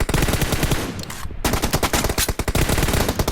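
Rapid automatic gunfire from a competitive shooter video game, loud bursts of close shots with a brief pause midway before the firing resumes in dense repeated volleys.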